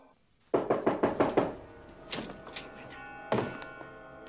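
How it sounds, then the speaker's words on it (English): A door being knocked in the 1996 film Scream: a run of five firm, evenly spaced knocks, then a few softer scattered taps and one more thud, close and clear, without speech. "Knock twice, nobody there."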